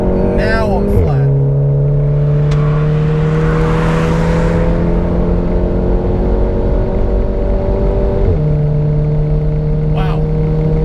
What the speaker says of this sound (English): Now I'm at full throttle.